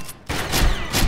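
Gunfire in the online shooter Combat Arms, a short burst of loud, rapid shots after a brief pause.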